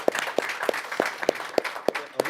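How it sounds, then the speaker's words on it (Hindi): A studio audience on an Uttarakhand talk show claps in a steady rhythm, eight or so sharp, evenly spaced claps over a soft background. "जोरदार ताली।"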